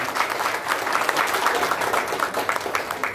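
An audience applauding in an auditorium during an anniversary ceremony of an arts forum, steady dense clapping throughout at moderate loudness.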